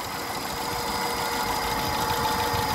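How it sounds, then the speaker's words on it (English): A 2010 Peugeot 207 with about 52,000 miles sits at idle, its engine holding a steady, even hum with a light mechanical vibration and no other sounds. "Engine sounds perfect."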